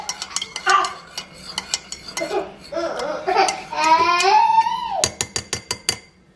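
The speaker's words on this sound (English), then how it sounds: "I'm going to add 3 little drops of sweet drops and stir that in." A spoon stirs sweet drops into coffee in a cup, giving a rapid run of bright metallic clinks against the rim near the end, with a child babbling and squealing in the background before it.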